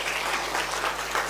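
A church congregation claps for the Lord, dense and steady applause filling the room for a brief moment without pause.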